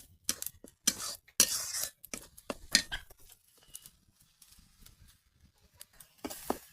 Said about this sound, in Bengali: এখন আমি মশলা কষাচ্ছি, দেখেন আপনারা।